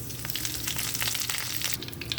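Mustard seeds, dried red chillies and curry leaves sizzle and pop in hot coconut oil for a Kerala-style cabbage carrot thoran, a close, steady crackling fry with sharp bursts of spattering.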